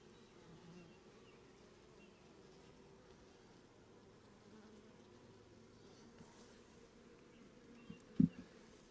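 Honey bees buzz softly and steadily while two colonies are set up and frames of brood, eggs and larvae are handled, with a brief knock or clunk near the end.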